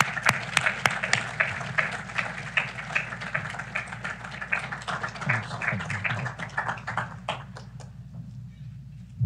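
An audience at a homeland security event claps in steady applause to welcome a speaker, a dense patter of hands that thins out and ends near the close.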